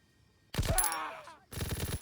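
Two bursts of rapid, close gunfire in Call of Duty: WWII, separated by a brief pause and ringing with a metallic, synthetic tail.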